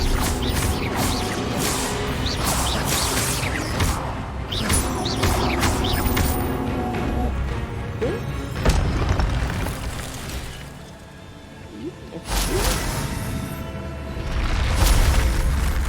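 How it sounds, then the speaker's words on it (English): Duelling spells crackle and boom in Hogwarts Legacy as Expelliarmus is cast amid continuous magical combat. Dense explosive bursts, pops and creaking mechanisms keep the mix loud throughout, with a brief dip before fresh blasts return. "Expelliarmus!"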